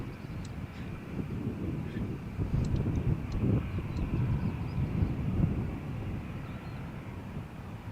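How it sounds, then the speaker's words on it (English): An EasyJet jet airliner departs Malaga Airport for Belfast on a stormy morning, a steady low engine roar with wind noise, moderately distant and sustained throughout. "Next departure is an EasyJet flight from Malaga to Belfast."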